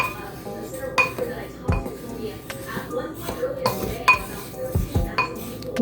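Sugar, yeast and salt being stirred together for fry bread, a spoon scraping and clinking against a bowl in irregular knocks and rings, close by, with some speech-like sound alongside.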